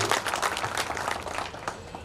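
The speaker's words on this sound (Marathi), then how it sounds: "परत एकदा आपल्यासाठी जोरदार टाळ्या झाल्या पाहिजे" Crowd applause at a Shivjayanti celebration, a dense, even patter of many hands clapping at once, sustained at moderate loudness for about two seconds.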